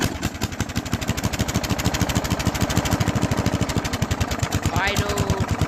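Riding lawn mower engine running close by, a fast, even chugging pulse that holds steady for the whole stretch, with a faint brief squeak near the end.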